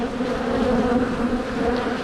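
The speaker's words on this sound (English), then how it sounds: "I got lots of bees." Honeybees buzz inside nuc boxes, a dense, steady drone from many bees close by, loud and continuous with no voices.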